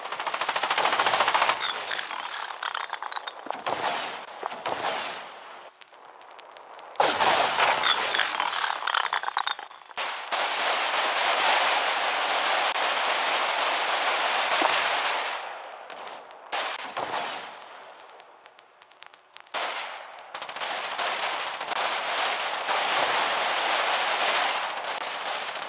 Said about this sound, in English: blankets of machine gun fire are dominating the no man's land at Carrion Fields